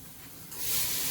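Rice tipped into a hot pan of softened onions and garlic for pilaf, a quiet hiss that jumps into a louder, steady sizzle halfway through.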